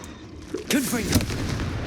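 A Confringo blasting spell cast in the Hogwarts Legacy video game, giving a sudden loud magical burst and boom with crackling, sizzling sparkle effects and a second impact shortly after.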